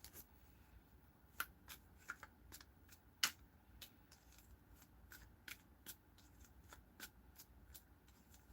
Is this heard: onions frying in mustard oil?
no